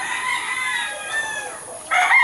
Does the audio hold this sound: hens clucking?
yes